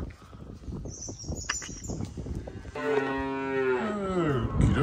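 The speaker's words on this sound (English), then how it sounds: "The smallest calves. They're making a noise. They want their morning milk." Small calves mooing for their morning milk on a farm, a long, loud, drawn-out moo rising near the end after rustling and feeding noises in the barn.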